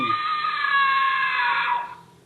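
A girl and her mother let out a shrill, sustained scream together, loud and close, holding steady for nearly two seconds before breaking off into silence.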